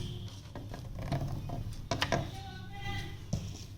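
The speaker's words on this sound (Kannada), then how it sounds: "ಬೇರೆ ಬಟ್ಟೆಗೆ ಸ್ಟಿಚ್ ಹಾಕಿ ತೋರಿಸ್ತೀನಿ." A handheld semi stitching machine runs through cloth, giving a rapid, close mechanical clatter of small clicks and ratcheting ticks with a few sharper knocks.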